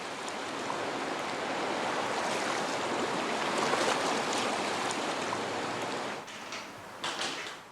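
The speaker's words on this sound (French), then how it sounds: "La petite rivière s'est transformée en un fleuve bouillonnant." A small river swollen into a boiling flood after a storm rushes in a dense, loud, steady roar of churning water, easing slightly near the end as a few knocks come through.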